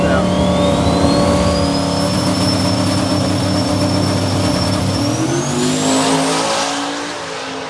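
A Buick drag race car runs at Sick Week 2023 with a loud, sustained engine roar and a rising whine that climbs in pitch as the car pulls away, then fades slightly at the end.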